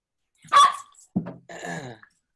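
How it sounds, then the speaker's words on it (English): A dog barks a few times close by during a podcast recording, short gruff woofs with a brief pause between them, heard alone without talk. "Sorry about the dog."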